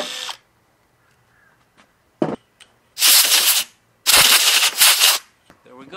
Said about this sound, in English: Could tap this by hand, but the drill does a very good job.